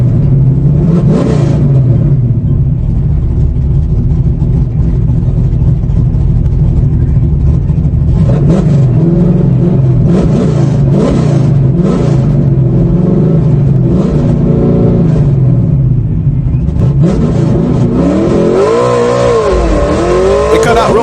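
A Ford 393 stroker drag car engine roars loud and close, accelerating down the track with rising and falling revs, the sound clipping and saturated throughout, then stumbling and cutting out in second gear.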